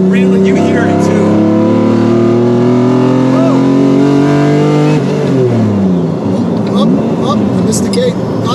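A Lamborghini Diablo's engine revs hard and climbs steadily in pitch under acceleration on a mountain highway, then drops abruptly at a gear change before building again. Voices talk over the loud, close engine roar.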